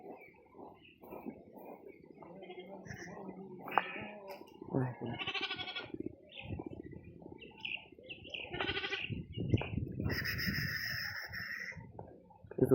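Several sheep, pregnant ewes, bleat in a pen, the calls close and repeated at irregular intervals, with people talking quietly in between.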